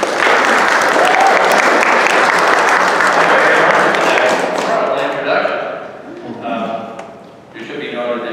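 An audience at a lecture on saving historic places claps loudly and continuously to welcome a speaker, then the applause thins out and fades.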